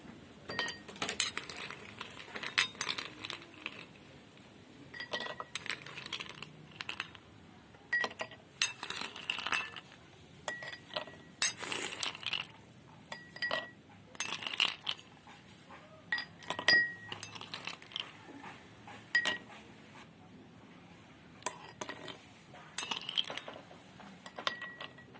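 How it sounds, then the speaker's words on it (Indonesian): Ice cubes dropped into drinking glasses during a chemistry practical, making repeated bright clinks and knocks in irregular clusters throughout, close and clear with no talking. "masukkan ke setiap gelas es batu yang sama ukurannya sebanyak"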